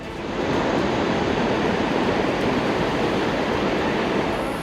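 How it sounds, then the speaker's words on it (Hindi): Muddy floodwaters roar after a landslide in Peru, a dense, continuous wash of rushing water that stays loud and steady throughout with no voices. "दहाड़ मारती मटमैली लहरें"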